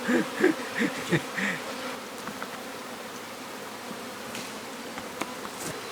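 A low, steady buzz of bees fills the air, with a few brief muffled sounds early on and no talking.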